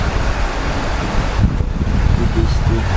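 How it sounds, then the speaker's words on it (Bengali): Heavy monsoon rain pours down outside a house as a constant, close hiss and rumble, with a short dip partway through before the downpour steadies again. "কি বৃষ্টি।"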